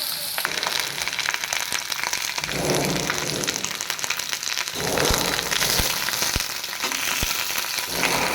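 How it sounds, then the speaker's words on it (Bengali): Pointed gourd and potato pieces frying in hot oil, a steady loud sizzle throughout with brief stirring swells and a few sharp pops, no talk. "বন্ধুরা, আমি ভাজছি পটল আলু, এইভাবে আপনারা ভেজে নেবেন।"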